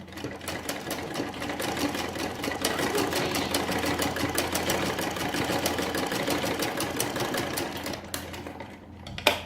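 A sewing machine stitches the sleeve of a kurti in short, steady bursts, its rapid needle chatter continuous and close, easing off near the end with a sharp knock.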